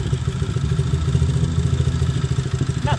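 A Coolster dirt bike engine runs steadily after being restarted, a close, loud, fast-pulsing putter with mechanical clatter and no talking.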